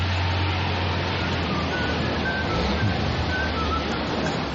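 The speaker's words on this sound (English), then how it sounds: "We're waiting out in the rain." Steady rain falls outdoors in a dense, unbroken hiss that stays loud and even throughout, with no talking.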